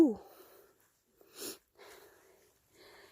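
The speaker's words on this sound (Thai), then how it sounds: "เสียงหายใจหอบจริง" A person breathes heavily while out picking mushrooms in a Finnish forest, giving a few short, breathy pants that come and go in faint bursts between quiet gaps.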